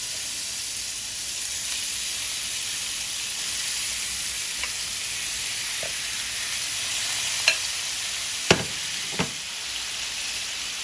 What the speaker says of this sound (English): we're just gonna place our meat into our frying pan